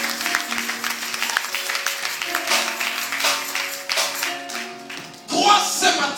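A church congregation applauding, a steady patter of many hands clapping in rhythm over sustained music, with a louder swell of clapping near the end.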